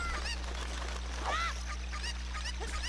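Chickens in the video game Zelda Ocarina of Time cluck and squawk in short, repeated calls over a steady low game hum, fairly faint, several cries scattered across the stretch.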